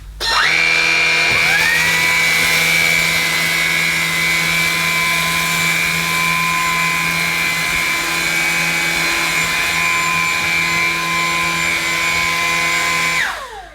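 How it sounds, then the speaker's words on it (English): A Lupe Pure cordless vacuum cleaner with its brush roll on and suction set to normal spins up to a loud, steady whine, holds for about twelve seconds with a slight pitch change, then winds down. "I'm going to use it on the default setting, so the brush roll will be on and the suction setting is on normal."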